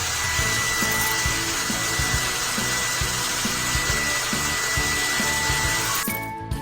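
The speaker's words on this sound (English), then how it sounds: "Turn on the hairdryer." Hair dryer in a cat dress-up video game blows as a steady broadband whoosh for about six seconds, with faint knocking beneath, then cuts off abruptly.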